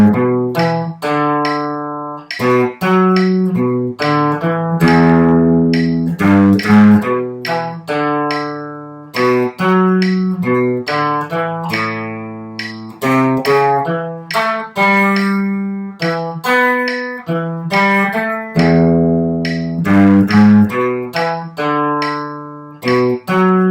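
A guitar plays a pentatonic riff at about half tempo, a steady run of separate plucked notes repeating a pattern that moves across the strings, heard close and alone for over twenty seconds.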